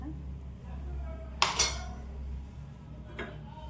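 A metal spoon clinks against a pot while lemon juice is stirred into a Kannada majjige huli made with ash gourd, two short scraping clinks over a quiet kitchen hum.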